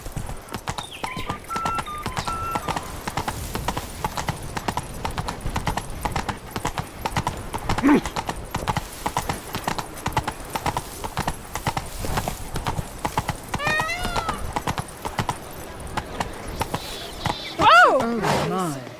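Horse hooves clip-clop steadily throughout a ride in The Witcher 3, with a whinny near the end and voices talking over the hoofbeats.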